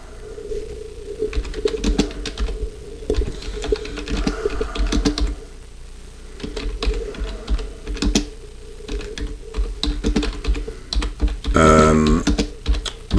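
Rapid clattering keystrokes on a computer keyboard come in uneven bursts and pauses, close by, with a brief harmonic buzzing tone near the end.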